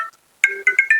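A mobile phone ringtone bursts in after a brief silence, a bright electronic melody of quick repeated tonal notes, loud and close with no talking.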